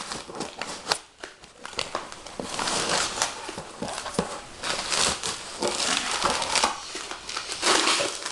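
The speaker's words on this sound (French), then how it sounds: "Alors donc là du polystyrène avec du scotch pour bien protéger." Polystyrene foam wrapped in tape is handled and pulled apart, giving irregular crinkling, crunching and squeaking bursts with sharp snaps, close and varying in loudness throughout.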